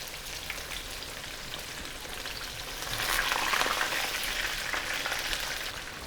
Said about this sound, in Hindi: साथ ही मछली भी फ्राई हो रही है